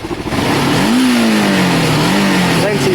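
Kawasaki ER-5 motorcycle with holes in its exhaust, revving up close and loud, the pitch rising, then wavering and dipping before climbing again, with a raspy, leaky edge.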